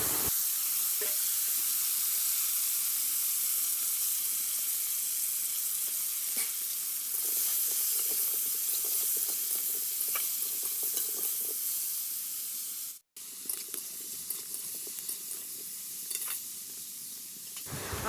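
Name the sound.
crushed hog plums frying with five-spice and dried chilli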